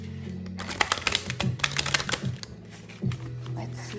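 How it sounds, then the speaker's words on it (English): An oracle card deck is shuffled by hand in quick, crisp riffling bursts, close and clear, with brief pauses between runs and faint talk in the background. "I shuffled a whole deck"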